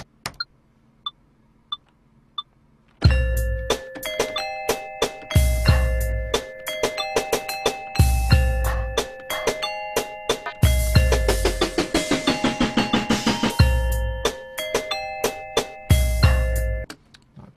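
Layered bell tones in a rap beat: a few sparse bell pings, then a loud looping pattern of stacked bell notes over repeating heavy bass hits, rhythmic and steady.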